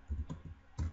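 Quiet computer keyboard typing while entering text with the text tool in CorelDRAW: a few light, quick key clicks within about a second, close and alone.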